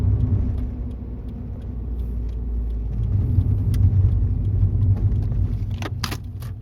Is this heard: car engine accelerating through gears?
yes